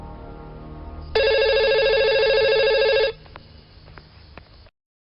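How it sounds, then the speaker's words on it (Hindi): A telephone rings with a bright, trilling electronic bell for about two seconds, heard close and loud over quiet background noise. "समर का फोन है"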